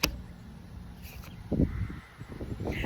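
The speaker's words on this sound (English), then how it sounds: "That crow is hella loud." A crow caws a few times, fairly loud and somewhat distant, over a steady background hum.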